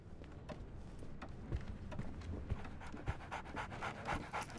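A dog in the video game Sherlock Holmes The Awakened pants in quick, rhythmic breaths, close and fairly soft, with a few light footfall-like taps mixed in.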